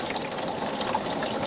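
Coolant gushing out at the thermostat of a Honda Civic, a steady close hiss of spraying liquid, brief and continuous.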